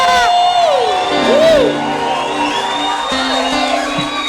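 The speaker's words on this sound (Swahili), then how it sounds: "Shangwe na vigelegele." A church congregation at a Daughters of Christ service cheers loudly and ululates, with high trilling whoops and sliding shrieks over a continuous crowd roar.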